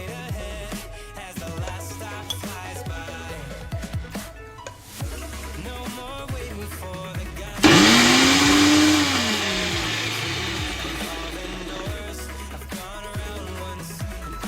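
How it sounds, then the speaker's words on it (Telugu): A mixer grinder whirs loudly at high speed for several seconds grinding grated coconut and raw mango for chutney, then winds down gradually, with kitchen clatter and faint background noise before it starts. "మళ్ళీ ఇంకోసారి మిక్సీ చేసుకోవాలి"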